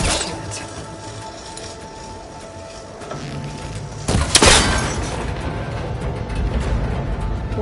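A shot strikes a cable connector in Horizon Forbidden West, and a sharp crash and breaking burst cuts through quiet ambient game sound, followed by a lingering rumble.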